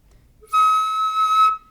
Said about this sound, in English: If you roll in to make the high note, it won't sound quite so good